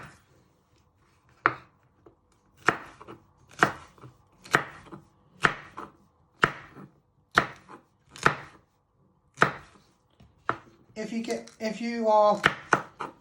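A knife slices vegetables on a cutting board in about a dozen crisp, evenly spaced strokes, close and clear against a quiet room, before a voice begins speaking.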